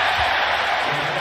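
Basketball arena crowd cheering during a Portland Trail Blazers versus New York Knicks game, a broad loud roar of voices with a commentator talking over it.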